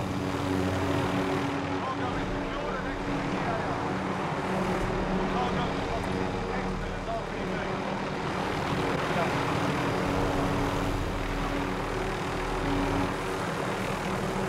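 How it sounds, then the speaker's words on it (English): Helicopter in the video game Call of Duty Modern Warfare, a continuous droning rotor and engine hum that stays steady and fairly loud throughout with no break. "Yo, this helicopter's dying, guys."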